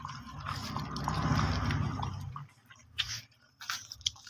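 Street dogs lapping and chewing milk late at night, wet slurping and smacking up close that gives way to scattered drips and small licks.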